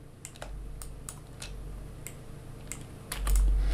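A computer keyboard is typed on during SketchUp modeling work, with a run of quick, separate, close key clicks spread over a few seconds and no talking.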